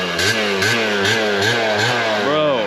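Upgraded scooter engine revving hard on the throttle, a series of quick rising-and-falling revs in close succession, loud and near, buzzing with a raspy high-pitched tone.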